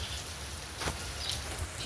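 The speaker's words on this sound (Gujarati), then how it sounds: "વરસાદ ચાલુ છે" Rain falls in a steady, faint hiss of patter, constant and unbroken over a very short stretch.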